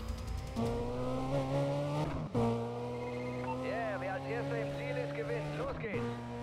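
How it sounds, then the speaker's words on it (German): Audi sports car driven in the racing game Need for Speed Undercover: a steady, loud engine drone with shifting harmonic tones through the whole stretch, a brief dip near the middle, and no voices. "Wir fahren einen fetten Audi, oder was?"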